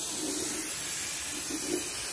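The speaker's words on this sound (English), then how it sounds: "now I'm just gonna hit this with some brake clean" Brake cleaner sprayed from an aerosol can onto a 1938 Ford truck chassis, a steady close hiss running unbroken throughout with faint rhythmic swishes underneath.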